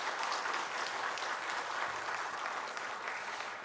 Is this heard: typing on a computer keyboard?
no